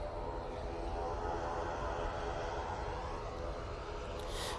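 An EasyJet airliner departs Manchester Airport for Newcastle, a steady broad engine rumble holding at moderate distance throughout, alone with no talk.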